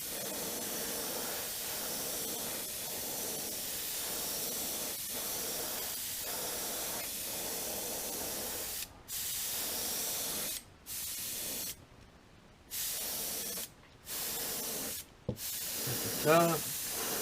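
Airbrush spraying a thin coat of paint onto a juvenile rainbow trout fishing bait, a steady close hiss broken by several short pauses between passes, with faint talk underneath.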